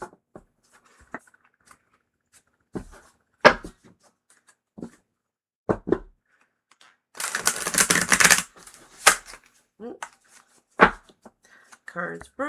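Tarot cards being shuffled in quick riffling bursts, with one longer dense flutter in the middle, between scattered taps and brief speech.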